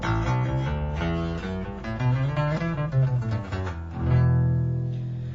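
Rickenbacker 4001 electric bass played through the toaster pickup alone with the tone control full up, a clear yet warm run of sustained bass notes ending on a long held note, close and steady with no talking.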